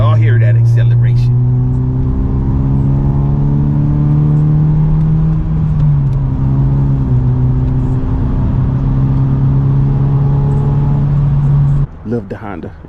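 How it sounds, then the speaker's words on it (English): A loud, close Honda motorcycle engine with loud exhaust roars steadily as it accelerates, its pitch climbing and shifting before cutting off abruptly near the end. "Y'all hear that acceleration?"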